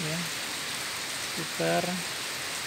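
Steady rain falls in Kuala Kapuas, a constant hiss of drops on surfaces throughout, while a voice speaks briefly over it.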